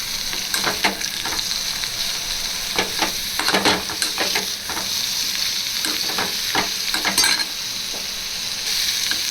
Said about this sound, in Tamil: பாவக்காவை நல்லா அப்படி வதக்கிப்போம்.